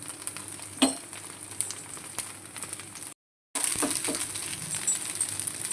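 Bread snacks frying in hot oil after being flipped, a steady sizzle with a few clinks of a utensil against the pan, broken by a brief silent gap.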